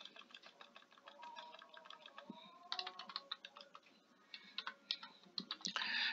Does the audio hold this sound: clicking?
yes